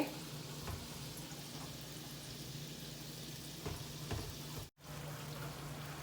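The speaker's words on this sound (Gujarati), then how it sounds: "આવી રીતે હવે બધા તળી લેવાના" Lentil vadas frying in hot oil for dahi vada, a soft steady sizzle and crackle held low and continuous throughout, with a brief dropout near the end.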